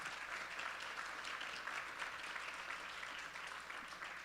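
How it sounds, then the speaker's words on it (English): Steady applause for the judges fills a business-competition event hall, faint and distant, an even wash of clapping with no voices over it. "Can we give them a big round of applause for their time and expertise?"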